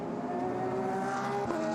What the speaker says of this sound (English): there it is, the Audi coming through the penultimate couple of turns